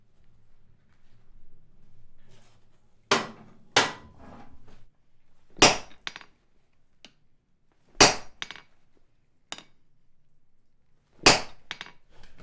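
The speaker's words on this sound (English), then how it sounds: "We're forging a tenon." Hammer blows on hot steel while forging a tenon with a round swage: six sharp, ringing metallic strikes, irregularly spaced with short gaps between them, close and loud.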